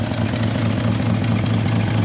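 A Chevrolet C30 truck engine idles steadily with a deep, even low rumble, close and loud and running alone with no talk.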